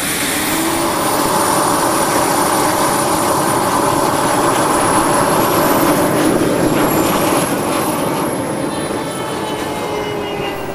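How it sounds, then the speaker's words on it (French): Sukhoi 27 model jet taking off at a Florida Jets event, a loud sustained turbine roar with a rising high-pitched whine, steady and close throughout with no speech. "on a enfin pu assister au décollage absolument somptueux de cet avion"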